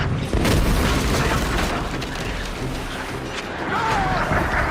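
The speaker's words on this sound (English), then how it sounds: "Heads up! Mortars!" Mortar fire in the naval battles of Assassin's Creed Black Flag, deep rumbling booms and a heavy, sustained low-end roar of cannon blasts and crashing, with faint game voices mixed in.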